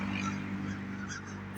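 Honking birds, likely geese, call in a continuous agitated chorus over a low droning background, steady and fairly distant throughout the short stretch.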